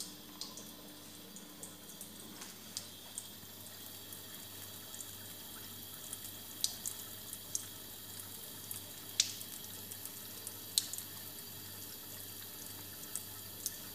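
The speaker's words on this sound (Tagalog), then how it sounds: "Pasaway na pusa, uminom ng tubig." A water tap runs in a thin steady trickle as a cat drinks from it, quiet and close, with small drips and soft splashes ticking over the stream.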